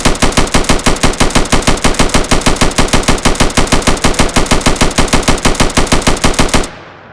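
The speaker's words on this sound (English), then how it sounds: "pick up my weapon, equip it, shoot, hit R, boom" Steady rapid machine-gun fire from a third-person Unreal Engine 5 shooter game, loud and evenly spaced, running continuously for several seconds before stopping cleanly with a short tail.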